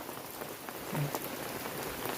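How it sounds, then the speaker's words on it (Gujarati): Rain falls steadily, a dense pattering hiss of drops hitting a surface without a break. "કેવો વરસાદ છે"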